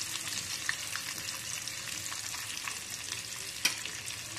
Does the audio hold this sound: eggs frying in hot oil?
yes